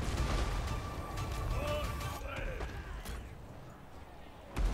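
Dwarf mortars and the Queen Bess cannon firing in a Total War: Warhammer II battle, a dense rumble of booming shots and distant blasts, loud at first and thinning out, with one last thump at the end.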